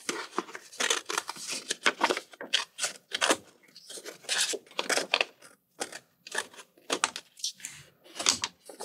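Scissors cutting a shape out of paper for a festive craft, a quick series of crisp snips and rustles in close, steady bursts, heard alone without talk.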